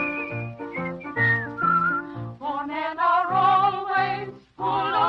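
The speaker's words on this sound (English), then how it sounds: "Maybe they'll whistle and you will hear." A person whistles a lively tune in a live radio theatre performance, clear melodic phrases with sliding pitches and short breaks, close and loud with nothing else beneath.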